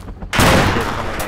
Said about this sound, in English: Whoa, gunshots.